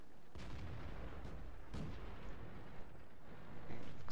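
Tank gun firing in a video game, a few muffled distant booms and thuds over a low rumbling battlefield background.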